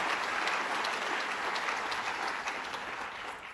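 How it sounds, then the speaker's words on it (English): An audience at a State of the State address on Staten Island applauds in a steady, dense wash of clapping that holds evenly for several seconds with no voices over it. "Give him a round of applause"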